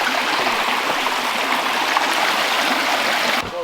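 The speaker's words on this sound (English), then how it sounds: "Wow, I could hear the sound of waterfall." A river rushes near a waterfall on a camping trip, a loud and steady close wash of flowing water that cuts off briefly near the end.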